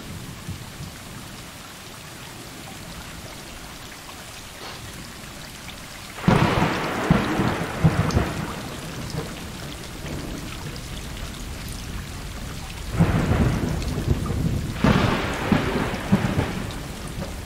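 A heavy thunderstorm in the video game Stray, with steady loud rain and two big rolls of thunder that surge and fade, no voices over it.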